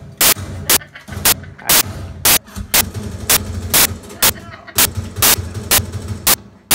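Gunfire in the video game Rainbow Six Siege, a string of loud, sharp shots in a rough rhythm about every half second, over a low game hum with faint talk underneath.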